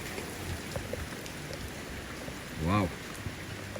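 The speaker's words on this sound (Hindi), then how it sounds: "कितनी तेज बारिश है। ये देखिए झमाझम पड़ती हुई बारिश।" Steady heavy rain hisses throughout in Sangkhlaburi, Thailand, a dense wash of falling water with a brief louder splash or passing noise near the end.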